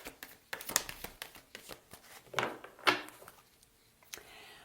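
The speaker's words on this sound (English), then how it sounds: "Last shuffle." Cards are shuffled by hand in a quiet room, with soft, irregular riffles and taps in short bursts, faint and close.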